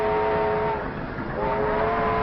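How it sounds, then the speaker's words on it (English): A train rumbles close by with a steady mechanical drone and faint tonal whine, a brief dip midway, loud and continuous throughout. "Look, the train came back for us."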